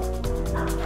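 A dog gives a few short, agitated yips and barks close by, layered over a steady low background hum for under a second.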